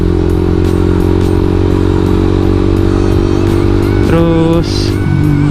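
Suzuki GSX motorcycle accelerating hard, with the engine note rising and dropping as it shifts up at around 6000 RPM; the loud, steady engine drone is close, and a brief rev change comes near the end.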